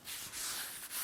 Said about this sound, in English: now I have some flour that I'm just going to sprinkle on my work surface